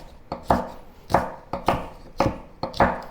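A knife chops through fresh chili on a cutting board to remove the seeds and pith, six or seven firm, evenly spaced cuts up close, with no talking.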